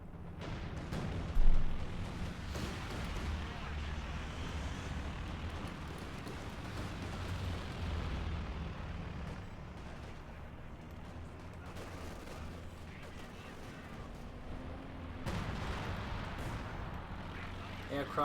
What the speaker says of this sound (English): Air support called in to route the IS-2.